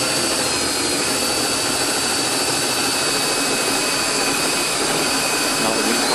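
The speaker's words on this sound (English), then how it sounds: "I get the water going with this whisk, this squirrel mixer and the drill" A drill spinning a squirrel mixer whisk through water as wheat flour is poured in for a wheat and clay adhesive, giving a steady, loud, continuous whirring churn with no pauses and no talking.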